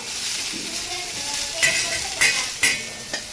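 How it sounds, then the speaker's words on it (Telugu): Ingredients fry lightly in a little oil left over from frying chillies, a soft steady sizzle with a few sharper crackles and stirring clinks near the end, no voices. "అదే ఆయిల్తోనే నేను ఫ్రై చేస్తున్నాను"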